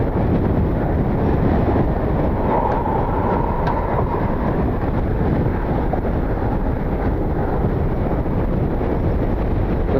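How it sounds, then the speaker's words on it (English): Strong wind gusts buffet the microphone while plane spotting at Cleveland Hopkins airport, a loud constant low rumble and roar that swells slightly without pause. "We are fighting the wind gusts that blow through."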